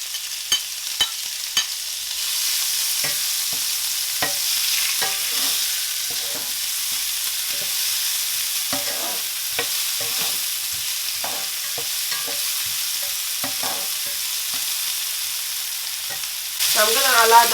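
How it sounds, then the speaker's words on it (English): Onions, ginger and garlic frying in a pot for a lamb stew, giving a steady loud sizzle throughout, with frequent clicks and scrapes of stirring on top. "So now guys, we're going to add our onions,"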